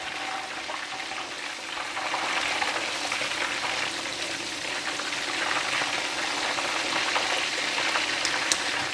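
Prawns deep frying in hot oil, a steady dense sizzle and crackle that runs unbroken and close, swelling slightly after the first couple of seconds, with no talking.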